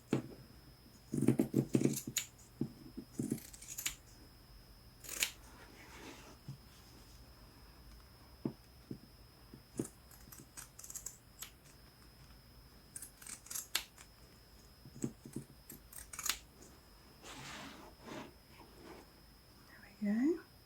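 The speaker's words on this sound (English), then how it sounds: "So I'm using my pinking shears." Pinking shears snip through journal cover material in a string of quiet, crisp crunching cuts spread over the stretch, with some soft speech and handling noises between them.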